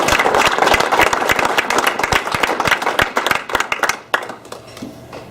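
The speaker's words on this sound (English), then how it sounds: "30 years is a lot of dedication, and let's give a nice round of applause to Steve Parker." A banquet audience of the IAABBO gives a round of dense, lively clapping for several seconds, which then thins out and fades into scattered claps.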